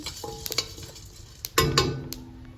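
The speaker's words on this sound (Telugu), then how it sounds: "నూగులు కూడా పోసేసుకుందాం చల్ల నూగులు ఇవి మొత్తంగా మంచిగా ఫ్రై అయ్యేలాగా చేసుకున్నాను" Sesame seeds frying in a pan for a dry chili and drumstick-leaf spice powder, with scattered clinks and scraping stirs and a brief louder burst of sizzle and stirring midway, close and with no talking.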